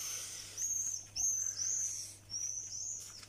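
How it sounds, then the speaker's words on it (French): Swifts circle over a garden, giving a series of thin, high screeching calls in short bursts at an irregular pace, moderately near, over a faint background hum and without speech. "Ce sont les martinets, hein, qui tournent comme des fous. On les entend bien."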